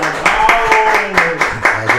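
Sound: applause

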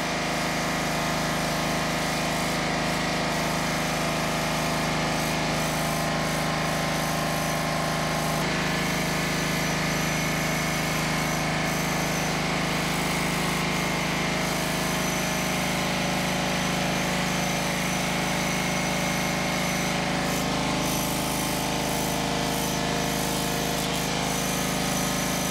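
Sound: pump sucking diesel, engine running

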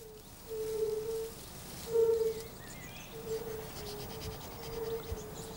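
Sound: mating calls of golden-bellied toads

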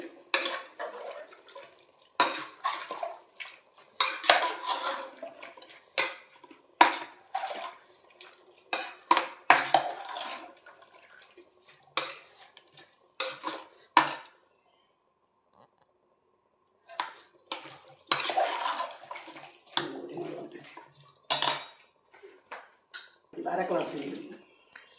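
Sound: stirring tapioca in a pot with water

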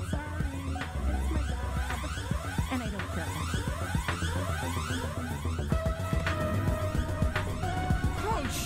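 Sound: alarm going off in video game High on Life

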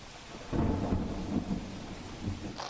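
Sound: heavy rain and thunder

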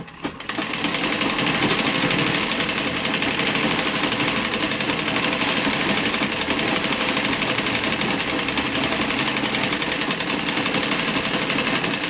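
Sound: sewing machine stitching cotton fabric

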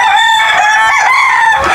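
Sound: chickens clucking and crowing on a rooftop farm

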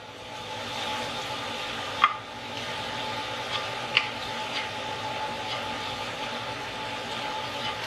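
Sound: stirring shredded skipjack tuna with palm sugar in pan

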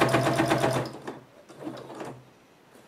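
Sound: sewing machine sewing sides of a clutch bag

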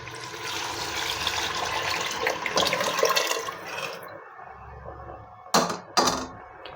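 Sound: pouring boiled water into cooking pot

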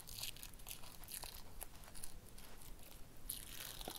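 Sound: peeling off a glitter face mask

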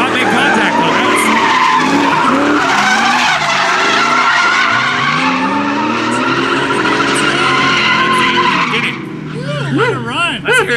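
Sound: Ford Mustang drift cars skidding in competition run

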